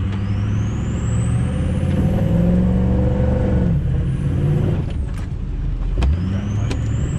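Loud, close engine of a Ford F350 pickup truck in four-wheel drive, rumbling steadily and rising as it pushes through a dip, with creaks and clunks from the body near the end.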